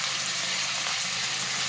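Curry leaves, crushed chili, turmeric and salt frying in hot oil for a potato tahari, a steady close hiss and sizzle with no break, no voices.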